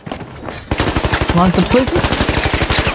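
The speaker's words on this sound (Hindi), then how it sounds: "भाई निकलती गोलियां बरसा दी भाई" Rapid automatic gunfire in the video game The Finals, a loud sustained burst of evenly spaced shots starting after a quiet moment, with someone speaking over the shooting.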